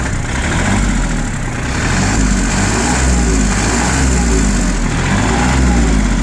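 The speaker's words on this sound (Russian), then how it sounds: "Сейчас нажму на газ." A Japanese 4WD mini tractor's small engine roars steadily close by, its loud mechanical drone holding and rising slightly as the throttle opens.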